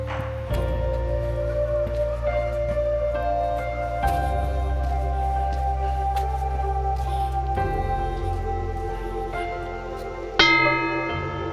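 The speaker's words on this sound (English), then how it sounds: "You put a donation in the box, walk up, and then you can ring the bell and make a prayer." A small bell rung at a little shrine in Kyoto, ringing out with long sustained tones that layer and decay, struck again partway through and once more near the end with a brighter ring.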